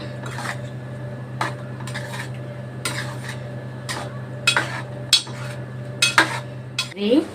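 A spoon stirs garam masala into a curry in a pan, scraping and clinking against the metal in irregular strokes over a steady low hum, with a louder clatter near the end.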